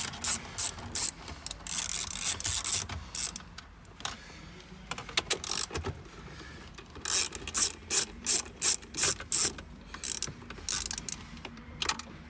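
Screws being undone anti-clockwise on the stereo of a 2016 to 2020 Toyota Hilux: close, quiet ratcheting clicks in quick rhythmic runs, with small handling and rubbing noises between them.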